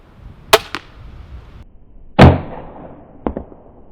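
Ravin R26 crossbow shot and the bolt striking a Morrell High Roller target at 20 yards outdoors: a sharp release snap with a quick second crack, a louder thudding impact, then another pair of fainter snaps, with no talking.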